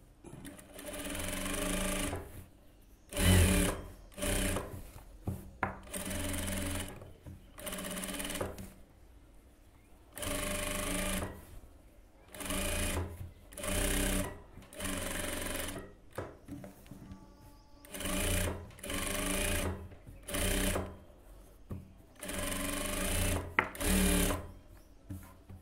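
A sewing machine runs an overlock seam along blouse lining in repeated bursts of fast, even stitching, each run a few seconds long and separated by short pauses, close and clear with no talk.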